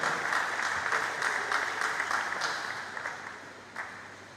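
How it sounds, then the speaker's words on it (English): Audience applause at a pest control association seminar and AGM in Nigeria, a steady patter of clapping from a moderate crowd, moderately distant, gradually thinning out toward the end. "A round of applause for Dr. Ogboso"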